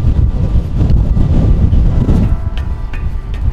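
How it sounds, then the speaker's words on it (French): Strong storm wind buffets the microphone in loud, continuous low rumbling gusts, easing slightly toward the end. "Il y a beaucoup de vent."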